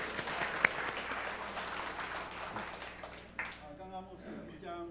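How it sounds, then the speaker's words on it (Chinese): A church congregation at a Mandarin-language Sunday worship service claps for about three seconds in a dense, steady burst, then the applause fades as a voice begins speaking. "再次掌声给他们鼓励鼓励。"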